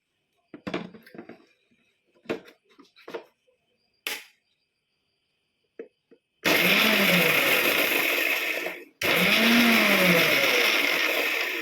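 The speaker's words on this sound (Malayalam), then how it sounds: "ഫ്രൈ ആക്കി വെച്ച വറ്റൽമുളകും കറിവേപ്പിലയും മിക്സിയിലിട്ടൊന്ന് പൊടിച്ചെടുക്കാൻ" A kitchen mixer grinder whirs loudly while grinding fried dried red chillies and curry leaves, running in two close bursts with a short pause between them, after scattered clinks and taps.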